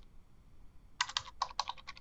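Computer keyboard typing the command fsolve in MATLAB: after a brief quiet pause, a quick run of crisp, close-up key clicks in uneven bursts, with a few separate taps toward the end.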